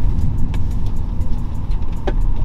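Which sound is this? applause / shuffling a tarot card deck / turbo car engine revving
turbo car engine revving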